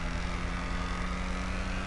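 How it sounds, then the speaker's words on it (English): A Jaguar car's engine in GTA Online, a steady low droning hum that holds at an even level throughout, with no other sounds. "Hear this car come up the road, you'll just think it's a freaking muscle car"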